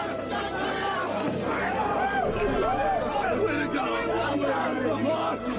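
A stadium crowd roars and chatters continuously in celebration after the Mets clinch the 1986 World Series, a dense, steady wash of cheering voices with whistles and shouts rising throughout.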